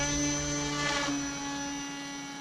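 Small RC model aircraft engine at full throttle during a flight test: a high, steady buzzing whine that wavers slightly in pitch, moderately distant and fading a little toward the end, with no voices.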